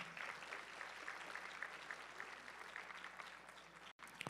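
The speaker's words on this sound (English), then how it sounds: "Give her another round of applause." Audience at a powerlifting meet gives sustained applause, dense steady clapping filling the room at moderate volume, with a brief dropout near the end.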